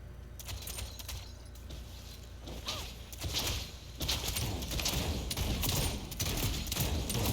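Automated turret gunfire in a video game rattles out in dense bursts, loud and close, with crashing impacts building toward the end; a voice is barely present.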